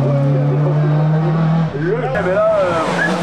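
A Peugeot 208 VTI race car climbs at a hill-climb event, its engine droning loud and near as revs rise and fall with a brief tire squeal, under a commentator's voice.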